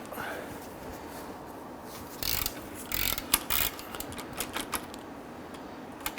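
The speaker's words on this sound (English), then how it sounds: "Sometimes you can use your ratchet." Ratchet working on the 15mm caliper bracket bolts of a 2006-2010 Hummer H3 during a parking brake shoe job, with short bursts of sharp clicking after a quiet start, close and clear against low background noise.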